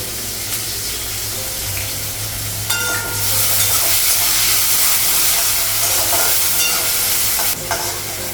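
Onions fry in oil in a pan, giving a steady sizzle with stirring scrapes and a louder burst of hiss midway, alone without any talk.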